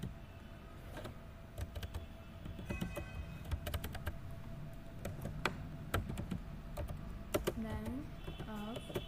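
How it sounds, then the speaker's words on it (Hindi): Fingers tap out text on a computer keyboard in irregular bursts of sharp clicks, with a couple of mouse clicks or quick squeaky sounds near the end over a quiet room hum. "आप कीबोर्ड से बैंक ऑफ बड़ौदा लिख लीजिएगा"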